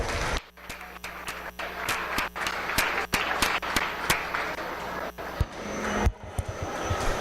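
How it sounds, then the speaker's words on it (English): Applause from an audience at a cattle stocker and feeder show ring, after the Simmental heifer placings, a sustained patter of many hands clapping with sharp individual claps standing out, fairly steady for several seconds before tapering off. "Let's give them a round of applause."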